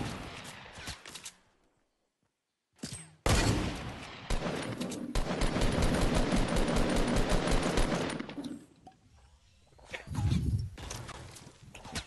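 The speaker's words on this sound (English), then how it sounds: "Now they're shooting at Danny." Rapid bursts of gunfire in a Fortnite match, loud and sustained through the middle with a short silent gap near the start and scattered shots and thuds before and after.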